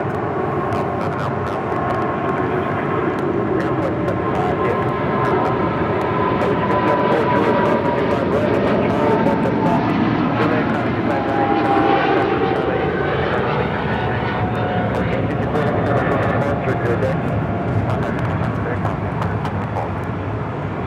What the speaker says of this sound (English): is the 777 freighter now rolling down 25 right